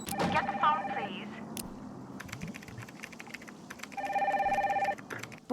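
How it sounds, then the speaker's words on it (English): Telephone in a Nancy Drew game rings in two bursts, one at the start and one near the end, with typing-like clicks and faint background sound between the rings. "Get the phone, please."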